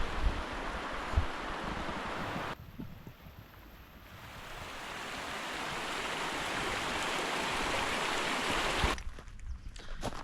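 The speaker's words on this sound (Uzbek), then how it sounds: "Sharqiramoq deb atalganini sababi mana shu sharqirab oqayotgan soyning boshlanishi bo'lsa kerak." A rushing mountain stream high on the route toward Boboiob peak in Tajikistan, a steady broadband roar of flowing water that swells slightly over time, with wind buffeting the microphone; no one speaks.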